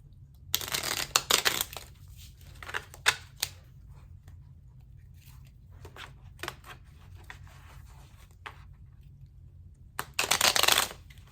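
Cards being shuffled in several bursts of quick, crisp riffling, separated by quieter stretches with light handling clicks; close and moderately loud.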